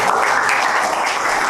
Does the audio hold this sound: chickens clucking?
no